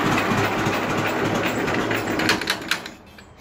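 An antique John Deere Model B tractor engine chugs roughly at idle, then sputters through a few uneven final beats and dies away to quiet.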